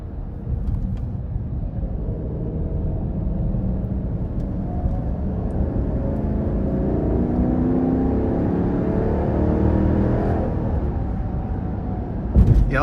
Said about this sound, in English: I love the exhaust sound. You put your foot into it.